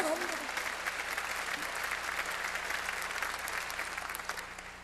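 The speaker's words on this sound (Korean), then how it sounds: "박수로 하세요." A church congregation applauds during a sermon, giving a dense, even wash of clapping from many hands that holds steady and fades slightly toward the end.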